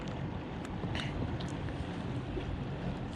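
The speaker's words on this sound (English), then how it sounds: "This will give some idea of the boat traffic." Motor boat traffic passing over a fishing spot on Blounts Creek in February, a steady low engine rumble with wind buffeting the microphone, no talk.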